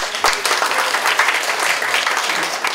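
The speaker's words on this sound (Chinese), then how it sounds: "所以我们是不是要给我们的委员会所有人一个掌声鼓励" Applause for committee members at a community gathering, a dense, steady round of clapping from a large crowd that stays even and loud throughout.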